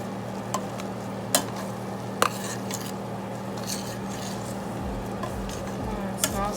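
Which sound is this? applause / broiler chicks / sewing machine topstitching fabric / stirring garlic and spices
stirring garlic and spices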